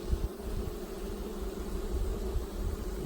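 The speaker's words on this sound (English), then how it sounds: "You can see all these bees down there crawling out." Honeybees inside an opened beehive during beekeeping, a steady low droning hum from many bees crawling out, continuous and close with no talking.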